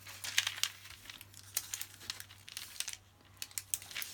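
Printed tracing paper being trimmed and folded gives crisp crinkles and short rustling bursts in uneven clusters, close and fairly quiet, over a low steady hum.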